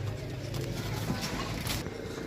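Rare high-flying Jeth pigeons cooing softly in low, rounded murmurs under a steady background hum, faint and a little distant, with no talk.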